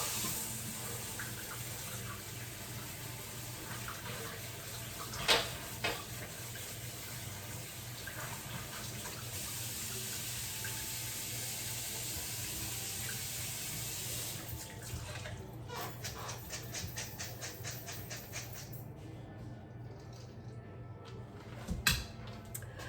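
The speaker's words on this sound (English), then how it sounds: "I'm going to remove all the water and then rinse it clean." Tap water runs steadily into a kitchen sink while soaked chickpeas for falafel are rinsed, a soft continuous trickle and splash at close range that shifts and then cuts off near the end.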